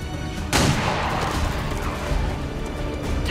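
Gunfire in the XCOM 2 video game: a sharp burst of shots opens the stretch, followed by rolling, crackling blasts and a sustained noisy wash, loud and close.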